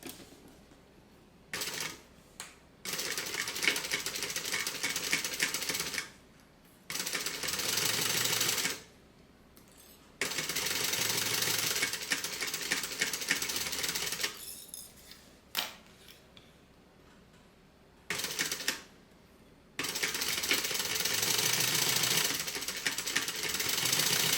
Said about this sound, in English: And now we're going to top stitch each one of these top edges.